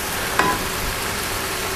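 Food stir-frying in a hot pan gives a steady, dense sizzle that holds at an even level, with a faint brief clink near the start and no talk.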